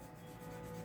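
Steady abrasive rubbing of sandpaper angling the end of a wooden strip for a model ship hull, continuous and faint, with no voices.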